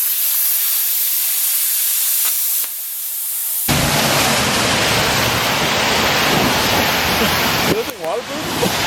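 Heavy rain pours down in Van Nuys, a loud dense hiss of water that starts abruptly partway through after a quieter stretch and then continues steadily.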